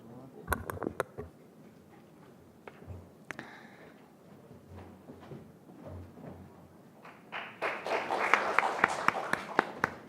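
An audience at a youth speech contest preliminary breaks into applause, scattered claps at first and then a dense burst of clapping that builds loudly over the final seconds.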